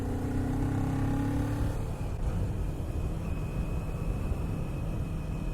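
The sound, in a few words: Kawasaki Z400 motorcycle engine revving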